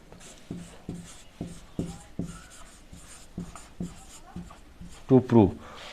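Marker or chalk strokes on a board during a geometry lesson on two intersecting circles, a steady series of short scratchy taps roughly every half second, with a teacher talking throughout and a louder burst of scribbling near the end.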